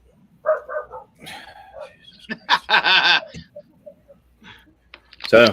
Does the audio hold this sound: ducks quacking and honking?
no